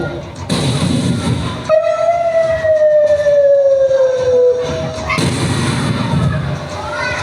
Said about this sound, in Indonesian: tiba-tiba ada suara bom